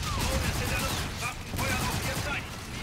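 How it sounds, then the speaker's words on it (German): Rapid gunfire at an anti-aircraft cannon in the video game Call of Duty: Infinite Warfare, a dense, rhythmic burst of repeated shots over a booming battle bed, with game voices mixed in. "Ethan, Feuer auf Luftabwehrkanone."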